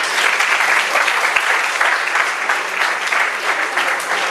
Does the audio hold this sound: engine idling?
no